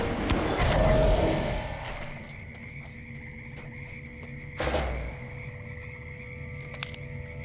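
Toads croak in a murky swamp in the fantasy online game LOTRO, a low rough bed of amphibian calls with a louder burst at the start and another near the middle, no voices over it.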